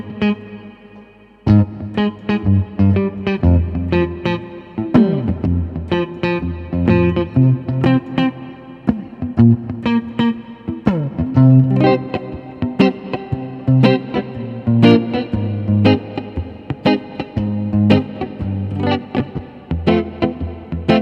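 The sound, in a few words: electric guitar with clean tone and reverb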